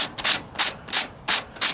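A shaper file sanding Bondo body filler on the driver's side wheel arch of a 1998 Ford Ranger, giving about five rasping strokes in a steady back-and-forth rhythm, close and loud.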